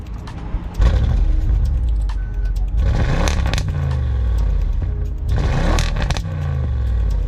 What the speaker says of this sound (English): it's a V8 twin turbo, and boy does this thing sound good